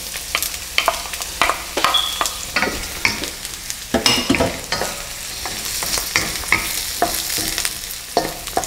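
Garlic and onion sauté in a pan with a constant sizzle and frequent sharp scrapes and taps of a spatula against the pan, close up and lively.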